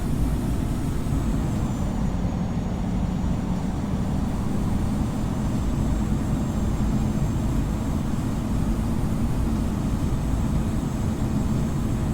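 An Airbus A220 taxiing to parking at Dublin in Infinite Flight, a steady, loud engine drone and rumble holding even throughout with no talk.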